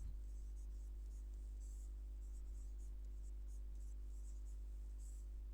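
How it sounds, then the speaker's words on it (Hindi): A pen writing on paper, with faint, rapid scratchy strokes in short bursts over a steady low electrical hum, close up and quiet. "पेन चेंज करके लिख दे रहे हैं"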